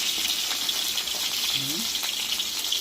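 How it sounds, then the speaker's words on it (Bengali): Fish fries in oil in a pan in a home kitchen, a steady, dense, close sizzle that runs without a break, with a brief low voice-like sound partway through. "এখন আমরা মাছ ভাজা হলো তুলছি"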